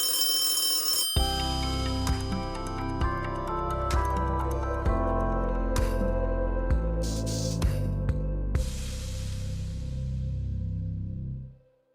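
An electronic telephone ring on a radio-style podcast call-in segment, a steady tonal ringing pattern with repeated chiming bursts, loud and continuous for about eleven seconds before stopping abruptly.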